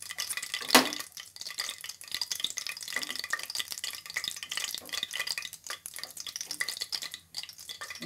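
A pan of frying ingredients for spicy tomato rice being stirred, with an irregular run of scraping and clattering strokes over a soft sizzle, one sharper clank early on, close and fairly quiet.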